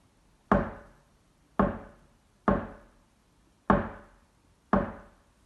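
Five sharp, evenly spaced wooden knocks imitating a woodpecker tapping on a tree, each a crisp near strike with a short decay, alone with no voices.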